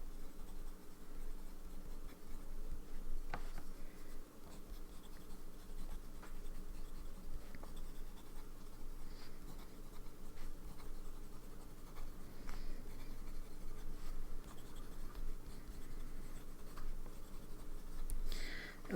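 Lamy Scala and Lamy Studio fountain pen nibs, fine and medium, with terracotta ink, writing on paper: a soft continuous scratching with small strokes and pauses, faint and close, with no talking.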